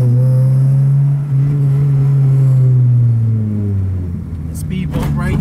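Junkyard-rescued Honda Civic on its first drive, engine droning loud and close as it pulls hard, pitch falling and rising near the end, with a voice speaking over it.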